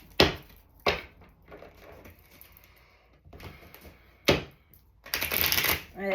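Tarot cards are handled and shuffled, giving several sharp riffling bursts and soft card slaps at irregular moments, ending in a longer flurry of riffling.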